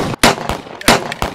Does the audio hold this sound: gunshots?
yes